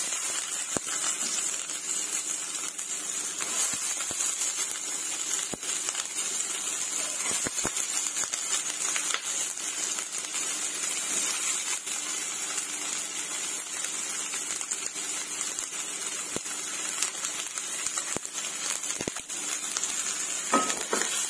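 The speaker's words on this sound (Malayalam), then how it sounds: "ഈ ഉള്ളി നമുക്ക് ഫ്രൈ പാനിൽ ഇട്ടുകൊടുക്കാം" Onion frying in a pan for chutney, a steady faint sizzle and hiss running continuously with occasional small crackles, alone without talk.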